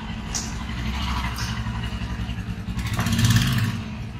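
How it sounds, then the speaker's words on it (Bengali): A repaired motorcycle rides out of a service centre in Pokhara, Nepal, its mid-pitched engine running close by and swelling as it revs near the end, with some clatter around it. "এই যে বাইক রিপেয়ার হয়ে এখন বেরিয়ে আসছে।"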